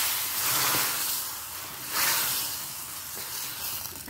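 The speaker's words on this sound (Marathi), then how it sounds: "आता ही फोडणी आपण ह्या रस्सम मध्ये घालणार" Hot tempering is poured into rasam, producing a loud, broad, steady sizzle and hiss that swells twice and then settles, with no voices.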